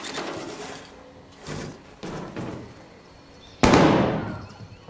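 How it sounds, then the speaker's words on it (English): Gunfire in the video game Arc Raiders: a few sharp, booming shots spaced irregularly, with one louder blast near the end that rings out and fades slowly, with no talking. "So there's somebody over there shooting"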